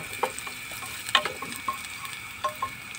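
Garlic frying in olive oil in a pan, a quiet steady sizzle broken by a few sharp clicks and taps of a utensil against the pan.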